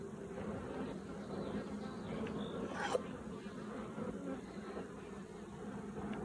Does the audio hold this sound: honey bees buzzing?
yes